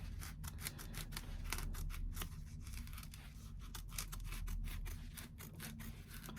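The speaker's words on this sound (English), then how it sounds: "trimming the foam from the seam allowance" Scissors snip steadily through foam trimmed from the seam allowance of an upholstery piece, giving a rapid run of close, crisp cuts with no talking.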